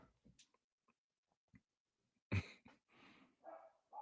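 A pet dog indoors gives a few short, sharp barks in scattered bursts between quiet stretches, fairly faint and close by, with no talking over it.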